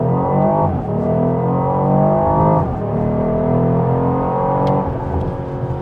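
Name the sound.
Porsche Cayenne S E-Hybrid accelerating in first gear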